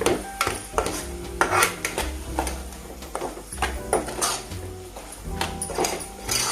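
A spoon stirs mushrooms with garam masala in a pan, producing irregular metallic clinks and scrapes against the cookware, close and fairly loud.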